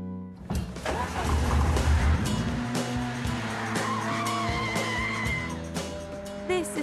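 A Renault Clio Cup race car at Castle Combe Circuit, engine revving hard and climbing through gears with tyre squeal and skidding, loud and close, no talk.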